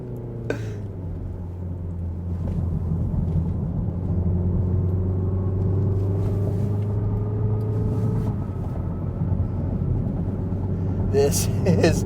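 A Mini Countryman JCW being driven on the road sounds like a steady engine drone heard from inside the car, with the pitch gradually rising mid-way as it accelerates, then settling back.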